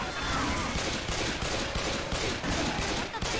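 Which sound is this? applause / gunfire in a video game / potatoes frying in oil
gunfire in a video game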